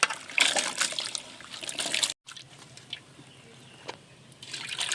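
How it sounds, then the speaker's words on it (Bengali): Cut potato strips and pointed gourd being rinsed in water in a home kitchen, with splashing and trickling in bursts, a brief pause, then quieter dripping and sloshing close by. "ধুয়ে তুলে নিচ্ছি"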